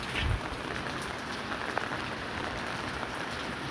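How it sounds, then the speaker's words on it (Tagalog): Steady rain falls on a construction site, a dense, even hiss of drops on surfaces with no talk, close and moderately loud throughout. "Ulan nga lang talaga."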